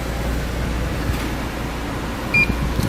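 A short electronic beep from a 2006 Renault Megane convertible, signalling its electric roof has finished, rises briefly above a steady mechanical hum, near the end of the stretch.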